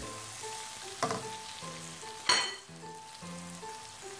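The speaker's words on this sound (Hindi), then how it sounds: "इसको शिमला मिर्च को डाल के बहुत ज़्यादा हम फ्राई नहीं करेंगे।" Capsicum frying in a pan for an omelette cake, a steady soft sizzle with stirring and two sharper clattering bursts, close by and alone.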